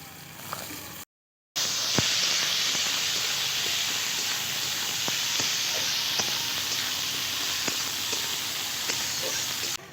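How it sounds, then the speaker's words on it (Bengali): Chopped onion and tomato fry in a pan with a loud, steady hiss and sizzle broken by small pops, briefly cut to silence near the start before the sizzle resumes without pause. "টমেটো পেঁয়াজ হালকা করে ভেজে নিয়েছি"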